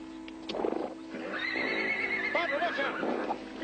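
A horse lets out a loud, shaky neigh, close by, with hoof clops and brief voices around it.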